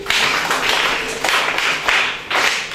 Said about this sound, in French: Merci, applaudissez-le.